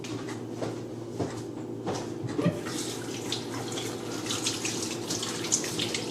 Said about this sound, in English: Let me go and wash my hands now.